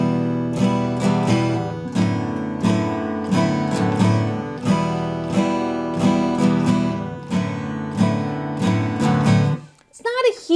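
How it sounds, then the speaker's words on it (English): An acoustic guitar strums a two-chord pattern from a song in a steady repeating rhythm, down strums with a quick up strum between the third and fourth beats, ending with a brief noisy scrape. "we're just going to add one little up strum in to spice it up a little bit"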